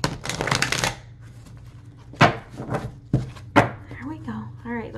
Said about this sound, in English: I know you pre-shuffled, but shuffle once more.